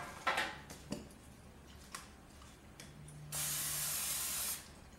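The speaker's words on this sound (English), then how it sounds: "We're then going to put it on a baking sheet with a little spray of vegetable oil." A few light clinks and taps, then a steady hissing spray of vegetable oil from an aerosol can onto a baking sheet lasting about a second, close and fairly loud.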